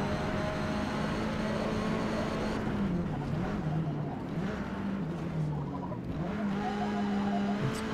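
A Hyundai Veloster N drifts in Forza Motorsport, its engine droning steadily while the tires squeal and scrub through the corner at close range, with the engine pitch dipping and rising again.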